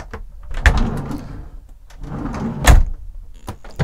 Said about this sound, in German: hier unten sind auch noch Schränke oder Schubladen.